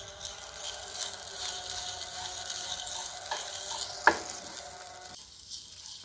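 Grated coconut is stirred in a pan with chili powder and salt for a Kerala drumstick thoran, making a soft continuous sizzle with light scraping and one sharp utensil clack.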